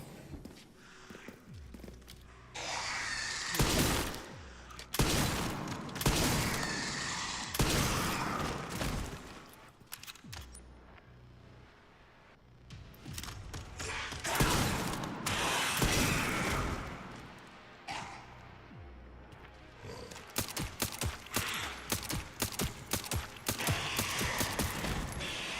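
Dense bursts of video game gunfire, with repeated volleys and rapid shots fired off to spend surplus ammunition, loud and busy with mechanical clatter and thuds between the bursts and no talking.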